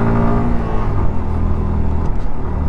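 A motorcycle rides the steep last five kilometres of the hill road to Sajek, a close, continuous engine rumble with wind noise and slight rises in revs, no talk.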